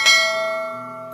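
A notification bell rings once, clear and close, with a bright strike that fades into a sustained, slowly decaying ring.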